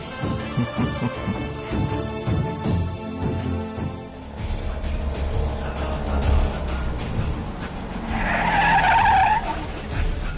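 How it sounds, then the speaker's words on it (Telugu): A car pulls in with its tires skidding and squealing in the closing seconds, after a stretch of loud dramatic music that keeps playing under the arrival. "కారు వచ్చింది."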